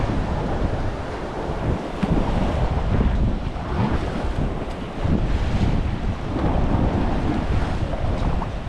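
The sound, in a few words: wind blowing at a Spanish marina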